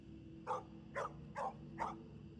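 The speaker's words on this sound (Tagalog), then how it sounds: "makarinig kami ng malalakas na tahol ng aso mula sa hindi kalayuan" A dog barks four times in an even, steady rhythm, each bark clear but somewhat distant over a low background hum, with no one talking.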